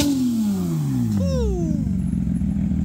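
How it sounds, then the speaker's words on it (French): A Porsche 911 GT3 RS fitted with an IPE exhaust roars past loudly, its engine note sweeping downward as it passes close by, carrying a steady booming drone throughout. "T3 RS, les amis. Échappement IPE, elle fait un boucan celle-là."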